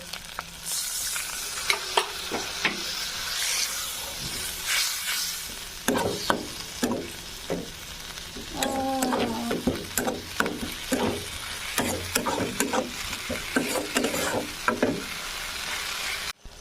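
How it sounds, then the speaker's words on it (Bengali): Spices with cashew paste, white sesame paste and a little water fry in a pan for a Bengali taro curry. A close, lively sizzle runs under repeated spatula scrapes and clattering stirs throughout. "অল্প একটু জল দিয়ে ভালোভাবে মশলাগুলো কষিয়ে নেব।"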